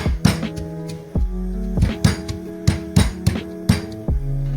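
Jeera and ginger pounded together in a mortar with a pestle, giving a steady run of sharp, repeated strikes with ringing overtones, fairly close and loud, about one blow every half second and no talk.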